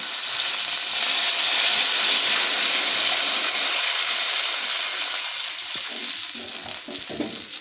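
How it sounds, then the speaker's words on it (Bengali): Water poured into a hot pan of fried potatoes and spices, a loud steady hiss and sizzle that fills the clip and eases slightly toward the end, with faint stirring knocks near the close. "এবার আমি এতে জল দিয়ে দেবো।"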